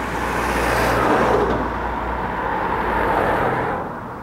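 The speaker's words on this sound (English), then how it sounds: "Just listen to the loudness of these lorries going past and vehicles." Lorries and other vehicles pass close by in town traffic, a loud continuous roar of engines and tyres that swells and holds before easing slightly at the end, with no talking.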